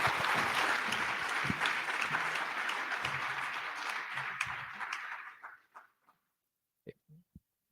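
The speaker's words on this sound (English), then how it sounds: "A round of applause." An audience applauds a speaker at a live tech event, sustained clapping that stays full for about five seconds before thinning out and trailing off into a few last scattered claps.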